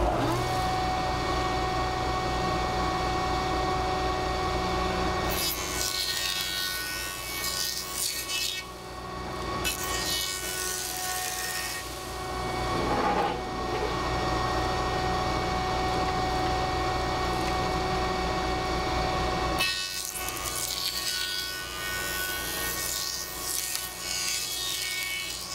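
A power tool cuts along a wooden floorboard milled from a fallen tree, a steady raspy grinding that runs continuously, with short bursts of harsher, brighter cutting noise coming and going.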